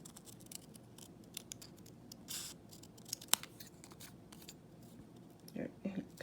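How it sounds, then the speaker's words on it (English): Scissors cut paper while being wiggled back and forth to trim a small decorative edge around a word, giving repeated soft snips and crisp scratchy clips, one sharper snap, close by and fairly quiet, with faint background murmur. "I'm going to do is wiggle my scissors back and forth to make a little design around the word"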